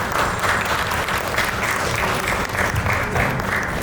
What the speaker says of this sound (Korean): 여기 지금 참여해주신 여러 작가분들께 큰 박수 부탁드리고요